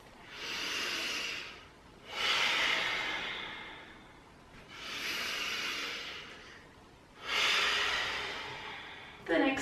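Slow deep breathing during mindfulness stretching, four long breaths at a calm even pace with pauses between, close and breathy, with a brief sharper breath at the end and no talking.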